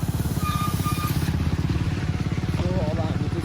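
A motorcycle rides along on a trip toward Palpa, its engine putting out a close, steady throbbing pulse with a faint rattle, and a voice talks over it.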